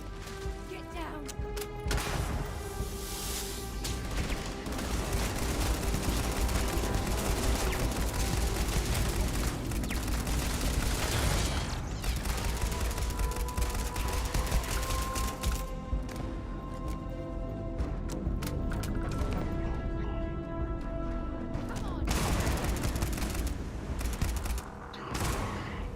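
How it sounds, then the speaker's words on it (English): Sustained gunfire from a Starfield firefight, dense overlapping shots and crashes rattling continuously for the whole stretch with barely a pause, loud and close, with voices talking through it. "Who's shooting?"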